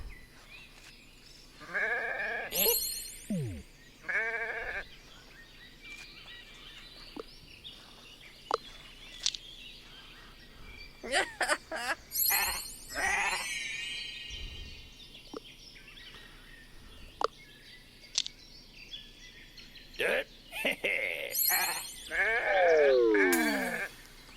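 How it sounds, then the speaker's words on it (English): Sheep bleats from the video game Renowned Explorers, several short wavering calls scattered among chirpy game effects and clicks over a low hum, fairly quiet overall. "One sheep left."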